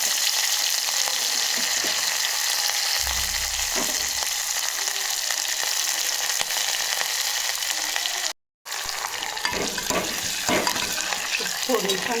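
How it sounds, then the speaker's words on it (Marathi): Garlic and curry leaves crackle and sizzle in hot oil for a tempering, a steady loud frying hiss with occasional stirring clicks and a brief drop-out partway through. "फोडणी छान तडतडते"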